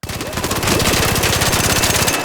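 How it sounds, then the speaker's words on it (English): Bobcat gun fitted with a horizontal grip in the video game Arc Raiders, firing one loud, continuous rapid burst of automatic shots for about two seconds, fired without correcting for recoil. "put it on your Bobcat, and now we're going to shoot it without adjusting for the recoil"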